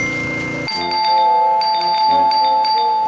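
A house doorbell is pressed over and over at the front door in a comedy sketch: after a short burst of noise, electronic chimes sound in a rapid, repeated series, loud and close.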